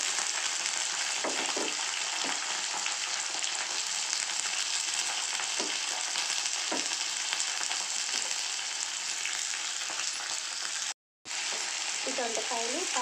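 Ivy gourd (dondakaya) pieces with curry leaves fry in a pan, giving a loud, continuous sizzling hiss. Occasional soft stirring knocks sound through it, and the sizzle cuts out briefly near the end.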